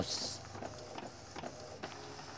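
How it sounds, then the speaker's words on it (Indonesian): An Epson L120 inkjet printer prints a photo on glossy paper, a close mechanical whir with repeated soft clicks and feed pulses in a steady rhythm, a voice faintly audible underneath. "kita tunggu sebentar ini lagi proses pengeprinan"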